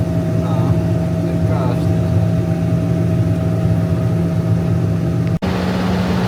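A tractor at a farm-machinery dealer's yard runs with a steady mid-pitched engine drone and a constant tonal hum, holding continuously with a brief dropout near the end and faint voices beneath.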